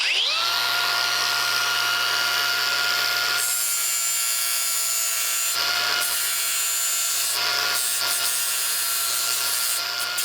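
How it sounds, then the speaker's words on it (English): An angle grinder fitted with a flap wheel sands wooden edges for a rustic wooden American flag, a loud continuous motor whine with abrasive rasping that shifts in tone several times as the wheel presses against the wood. "use some sort of angle grinder with one of these flap wheels"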